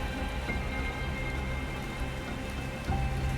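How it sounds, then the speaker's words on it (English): Gentle rain falls steadily outdoors after the wind has died down, a soft, even patter that continues without a break for the whole stretch. No voices are heard. "The wind outside has stopped, for now, leaving only gentle rain."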